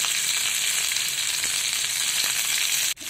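Sliced ice apple with chutney ingredients sautéing in a pan over a low gas flame, giving a loud, steady frying hiss with a few soft stirring scrapes and a brief dip near the end.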